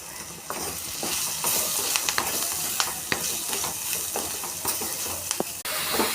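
Black-eyed peas with spices sizzle in a hot pan while a utensil stirs them, scraping and clinking in irregular strokes over a steady frying hiss.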